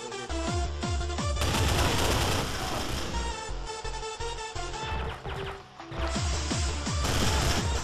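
Rapid gunfire and crashing bursts from Trouble in Terrorist Town, a shooting game, as a player fires at a barrel; loud, dense volleys of shots continue almost throughout with mechanical clatter, a brief lull, then more firing.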